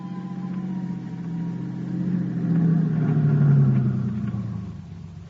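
Car driving sound effect for an old-time radio drama: a steady engine rumble that swells and rises in pitch midway, then eases back, heard alone at moderate loudness.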